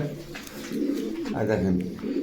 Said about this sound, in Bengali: রামপুরি ক্রসের নর কবুতর।